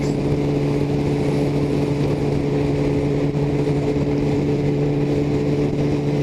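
A motorcycle engine idles steadily, its exhaust blowing warm air into riding gloves in cold weather; a close, even low hum with a constant tone and no speech.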